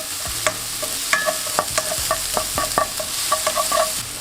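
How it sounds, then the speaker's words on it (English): Diced onions and garlic sauté in a pan, a steady close sizzle broken by repeated scrapes and stirs of a utensil, with no talking. "In with diced onions and garlic. Now I don't want any color on the onions or the garlic. I'm just gonna saute them for around a minute."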